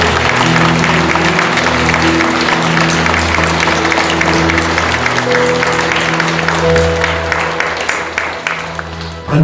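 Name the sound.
congregation applause in church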